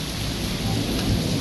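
Steady roar of heavy rain pouring down in Sialkot, dense and continuous, with a low rumbling undertone throughout and no voices.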